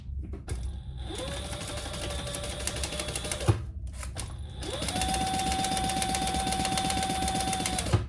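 A sewing machine stitches a tote bag seam in two steady motorized runs, a whirring hum with rapid needle clatter, separated by a brief pause and clicks.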